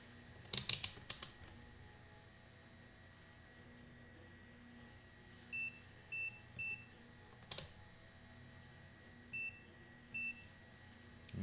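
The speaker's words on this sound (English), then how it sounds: "It's a diode test and a beep." A multimeter in diode test mode beeps in short, faint pairs and triplets at close range, over a quiet electrical hum on a soldering bench, with a few soft clicks and knocks.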